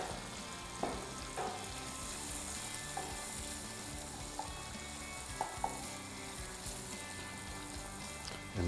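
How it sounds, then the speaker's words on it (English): Onions sizzle in melting butter in a pan for soup, a steady close frying crackle with occasional louder pops and clicks throughout. "And then as it's melting, we also put some onions."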